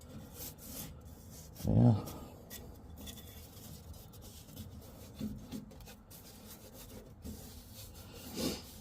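Rasping, scraping strokes clean rust off the rear end of a 1955 Chevrolet Nomad, steady and close with a few louder bursts, and someone speaks briefly.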